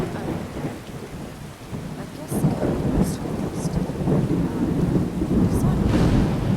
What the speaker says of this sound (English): This storm is intense.